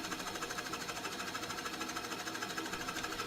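A 3-inch Forstner bit bores into exotic wood for a homemade bench vise, giving a steady, loud, dense whirring drone with a fast rhythmic chatter that runs unbroken throughout.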